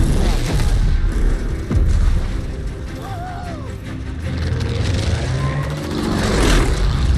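Bomb blast in Call of Duty Vanguard during the Midway battle, a dense, loud rumbling wash of booming explosions and mechanical noise filling the whole stretch, with a voice speaking over it.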